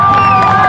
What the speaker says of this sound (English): crowds of protesters let out a big cheer